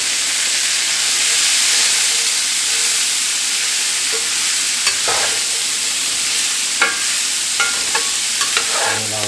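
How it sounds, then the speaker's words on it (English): Chopped vegetables for chicken cacciatore sauté in a hot pan with a steady, loud sizzle and hiss. Occasional scrapes and taps of a utensil stirring them sound close by, with no talking. "we're going to stir fry this up or saute it up till it gets nice and soft"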